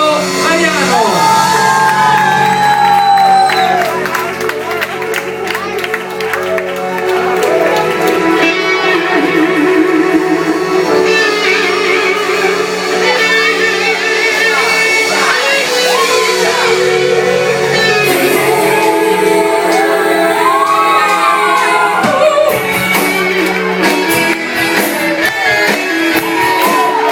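A live audience at an Italian music event roars, shouts and whoops to greet a performer taking the stage, loud and sustained throughout with music and voices layered in the din.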